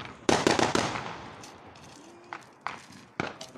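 Fireworks and firecrackers bursting at a New Year 2021 celebration in a village near Kardzhali, Bulgaria: a loud, close volley of sharp cracks at the start, then a few scattered single bangs after a quieter stretch.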